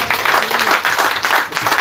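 A church congregation applauding Jesus Christ during a worship service, a burst of loud, steady crowd clapping filling the whole short moment.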